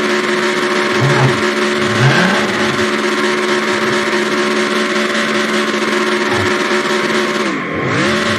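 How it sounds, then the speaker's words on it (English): A race car engine in the NASCAR Racing 2003 video game roars loud and steady during a short burnout, holding a sustained high drone with a brief dip in pitch near the end. "A nice little short burnout"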